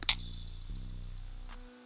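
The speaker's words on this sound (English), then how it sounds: "I got this open hat from this Rex V2 drum kit" A stuttering open hi-hat sample from the Rex V2 drum kit, heard alone as a bright, sizzling hit with a quick repeated stutter at the start, then a sustained shimmering decay over a low tone, fading out.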